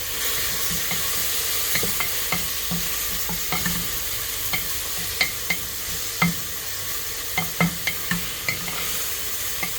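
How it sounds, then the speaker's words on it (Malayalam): Chopped tomatoes fry and sizzle in a pan during biriyani preparation, with a steady hiss and repeated close scraping stir strokes that grow sharper and more frequent toward the end, with no talking. "നമുക്ക് നല്ലതുപോലെ ഒരു 2 മിനിറ്റ് നേരം മിക്സ് ചെയ്യാം."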